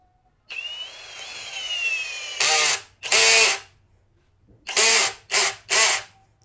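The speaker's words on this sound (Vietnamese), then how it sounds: "Tôi để ở cấp trượt 23, cấp trượt mạnh nhất. Vặn vít gỗ vào rất là ok." A Dongcheng DCJZ06-13 20V cordless drill, with its clutch at the strongest setting of 23, drives wood screws: first a long steady motor whine, then five short, loud, close bursts of screwing.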